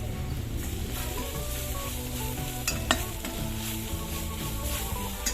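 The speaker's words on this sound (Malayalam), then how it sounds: "ഇളക്കി കൊടുക്കാം." Coriander powder stirred into browned onions in a hot pan for a soya chunks roast, with steady close sizzling and frying and the scrape of a spoon against the pan throughout, no voices.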